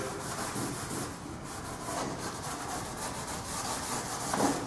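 Hand scuffing a wooden kitchen cabinet surface ahead of gel staining, a soft, steady rasping rub with repeated back-and-forth strokes, fairly quiet and close, with no voices.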